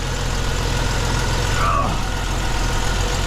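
A Jeep Cherokee XJ engine, under repair for oil leaks and random stalling, idles with a steady low rumble heard up close and loud, continuous for the whole stretch.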